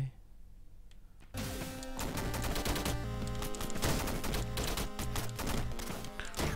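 In the Downwell video game, a character fires downward in rapid bursts of chiptune gunfire, a quick run of sharp, close shots layered over looping synth music after a short quiet lead-in.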